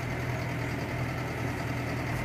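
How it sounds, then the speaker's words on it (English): A tractor engine idles steadily at a low, constant rumble throughout, with no voices, in a farm setting while sawdust bedding is being laid. "So he's a nice tidy tractor, he is."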